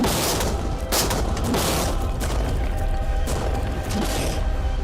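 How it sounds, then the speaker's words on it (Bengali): Tank cannons fire in rapid succession in a game setting, a dense, continuous barrage of loud booming blasts and crackling gunfire with no pauses across the whole stretch. "দেখো এবার আমরা ট্যাঙ্কগুলো দিয়ে র্যাপিড ফায়ার করব"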